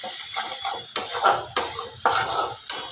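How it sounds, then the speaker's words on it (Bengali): Chicken kosha cooked with ghee and sugar is stirred in a pan, with a metal spatula scraping and clanking against the pan in repeated strokes over a soft background sizzle, close and fairly loud. "এবার এটাকে ভালো করে কষা কষাবো"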